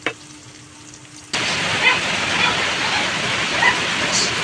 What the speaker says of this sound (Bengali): তেলটা গরম হওয়ার পর আমি পেঁয়াজ কাটাগুলো দিয়ে দিলাম।